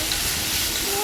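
Sautéing ingredients in an iron pan for a tamarind okra curry gives a steady, close broadband sizzle and hiss, continuous and even throughout with no talking over it.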